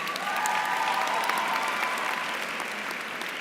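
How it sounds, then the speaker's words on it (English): A crowd at a graduation ceremony applauding families, sustained dense clapping at an even level throughout with no break. "So let's applaud them once again."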